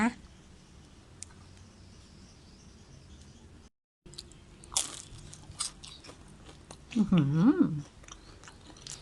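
Crispy fried spring roll filled with crab stick and cheese, bitten and chewed close up: crunchy bites followed by wet chewing clicks, then a short voiced hum near the end.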